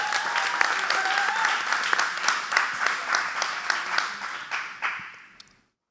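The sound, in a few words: audience applause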